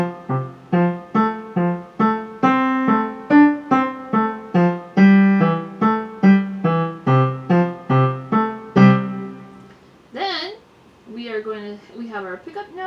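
Piano playing the third line of Schumann's The Wild Horseman from Album for the Young, a quick run of short detached notes in a steady galloping rhythm, close and clear, followed by a brief stretch of talk at the end.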